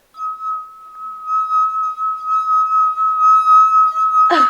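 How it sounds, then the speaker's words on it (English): A pound coin spinning on top of a glass makes a sustained, pure ringing tone that holds steady for several seconds and ends in a sudden rattling clatter. "I'll spin my pound on top of a glass."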